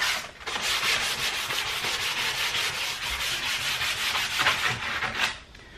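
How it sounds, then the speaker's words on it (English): Sanding block with 120 grit sandpaper giving painted wooden furniture a quick scuff sand, producing steady, close rasping strokes in a continuous rhythm, with no talking. "I've just got a sanding block and some 120 grit sandpaper"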